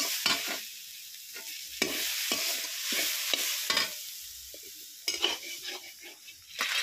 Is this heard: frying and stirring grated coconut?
yes